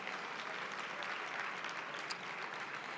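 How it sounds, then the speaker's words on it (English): Audience at an International Women's Luncheon gives a big round of applause for Coca-Cola Bottling Company, a sustained, even wash of many hands clapping at moderate loudness, with no talking. "Give them a big round of applause."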